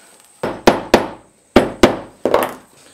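A hammer strikes nails into a leather sandal sole, six sharp close knocks in two groups of three with short pauses between.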